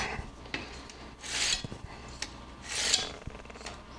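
A knife blade is drawn across a Diamond Cross Fast Track diamond sharpener held in a magnetic jig, giving two distinct rasping strokes about a second and a half apart, close and clear, with faint clicks and handling noise between them.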